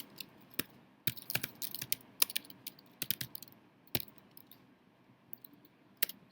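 Fingers tap on a computer keyboard while a lesson plan about lava and rock forming is entered, scattered bursts of sharp clicks with short pauses between them, fairly close and fairly quiet, with no talking.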